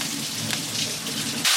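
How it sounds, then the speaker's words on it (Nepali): Water pours into a hot pan of pilau rice, a loud, close, rushing hiss that holds steady and surges briefly at the end. "हामीले अहिले पानी हालिरहेको छौं।"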